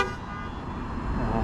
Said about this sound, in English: My wife is officially honking at me.